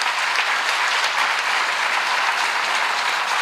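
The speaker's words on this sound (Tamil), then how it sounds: "இந்த 5 பேருக்கும் நல்ல கைத்தட்டல் கொடுங்க" Audience at a Tamil New Year festival gathering in New Jersey applauding, a dense, even wash of many hands clapping that holds steady throughout, with no talk over it.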